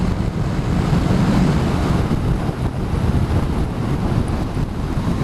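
Riding a 2019 Honda CBR500R sport motorcycle in a tuck behind its screen brings a loud, steady rush of wind buffeting and low rumble that continues unbroken, with no speech.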